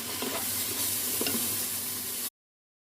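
Bitter melon stir-frying in a pan with garlic, onion and tomato: a close, steady sizzle with a few soft scraping stirs, stopping abruptly.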